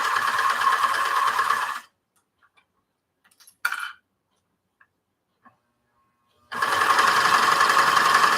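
A sewing machine stitching around a garment neckline, running in two close, loud bursts of rapid mechanical ticking, separated by a few seconds of near silence with a short whir in the middle.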